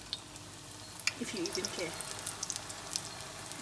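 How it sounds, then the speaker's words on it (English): Akara, round Nigerian bean fritters, frying in hot oil with a steady crackling sizzle and scattered pops, while a voice talks briefly over the cooking noise. "We're just going to fry it for about"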